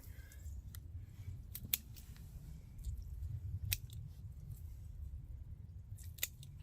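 Scissors snipping forget-me-not flower stems during garden deadheading, a scattering of faint, sharp clicks over a low steady outdoor background rumble, irregularly spaced, with a couple of louder snips.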